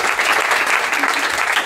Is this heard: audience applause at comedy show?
yes